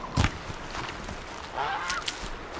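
A goose honks in the video game Horizon Zero Dawn, with a few sharp honks heard over a steady wash of ambient game noise.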